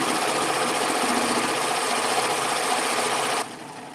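Serger sewing a chain stitch on bright white fabric with black needle thread and turquoise looper, a loud, steady, rapid mechanical whir close up that drops abruptly in level near the end as the stitching runs off.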